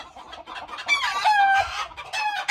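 Backyard chickens clucking and squawking in a noisy flock, with a rooster's crow rising among them; close and loud, with no talk.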